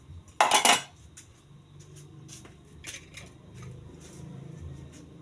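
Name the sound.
cooking pot lid being handled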